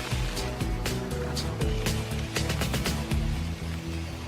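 Boat engines drone on the water beside treetops in New Guinea, a steady dense rumble mixed with splashing and rushing water, loud and continuous throughout.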